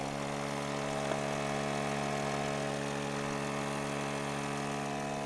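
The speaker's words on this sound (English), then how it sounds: "So now I've got it all hooked up, and I'm gonna air up the tires." An ARB air compressor fitted to a 4x4 Sprinter van runs continuously while inflating the tires, giving a steady droning motor hum with a dense buzzing tone, close and unchanging throughout.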